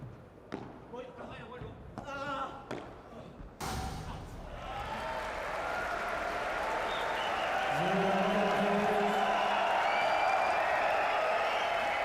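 Crowd cheering and applauding at a professional padel match on the central court in Brussels, swelling into sustained roaring applause after a few ball bounces and a commentator's voice.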